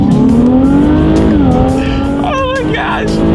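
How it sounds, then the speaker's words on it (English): A 2017 Infiniti Q60 accelerating hard in sport driving mode, engine roaring loudly as revs climb and the transmission shifts, with tire noise and a voice talking over it. "let me do a quick little acceleration here with it in sport driving mode"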